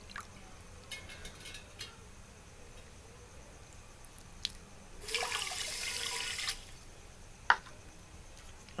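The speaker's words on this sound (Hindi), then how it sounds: "इसी कप की मेजरमेंट के साथ हम इसके अंदर डाल देते हैं 3 कप पानी।" Three cups of water are poured into a pan of sugar for semolina halwa, a brief splashing pour of about a second and a half amid scattered kitchen clinks, with no talk.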